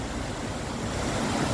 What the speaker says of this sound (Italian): quest'acqua, questa cascata, questo ruscello che scorre abbondante